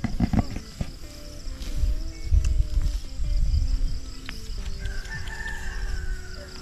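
Fighting cocks crow on a farm, several roosters calling near and far over a dense bed of clucking and insect buzz.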